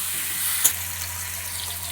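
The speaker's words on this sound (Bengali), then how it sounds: "দিয়ে দিলাম পেঁয়াজ ভাজার মধ্যে টমেটো, চিকেনটা শুধু নুন হলুদ মাখানো" Chicken coated in salt, turmeric and oil hits a pan of frying onions and tomato, giving a steady close sizzle with a brief clatter near the start and no voices.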